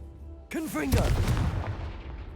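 Confringo fire spell blast in Hogwarts Legacy: a sudden loud burst with a sweeping whoosh, then a roaring rumble that slowly fades, close and alone.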